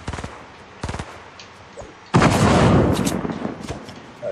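Guns fired at trees in Fortnite: a few separate sharp shots, then a sustained loud burst of rapid fire that rolls on for about two seconds.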